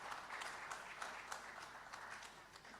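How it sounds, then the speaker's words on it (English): Audience applause for an IGAD executive secretary at a regional address, a steady moderate patter of many hands lasting throughout with no speech over it. "Let's please give him applause"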